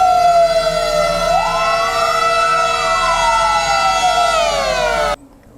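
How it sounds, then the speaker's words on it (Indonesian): Fire engine sirens from a convoy of district fire trucks in Sambas, Indonesia, wail loudly and continuously with overlapping rising and falling tones, close by, before cutting off abruptly. "melepas secara resmi konvoi pemadam kebakaran Kabupaten Sambas"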